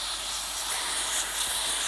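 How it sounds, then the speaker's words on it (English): Cleaner sprays in a steady hiss into a Rotablade skate bearing, one continuous close burst under two seconds. "spray into the bearing"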